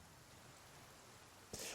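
Steady rain falls in the survival video game The Flame in the Flood, a soft continuous hiss of drops on surfaces, ending with a brief louder burst of noise near the end.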